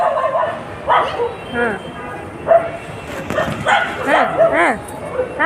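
A dog yips, whimpers and barks in short, high, wavering bursts at close range, mixed in with people talking over it.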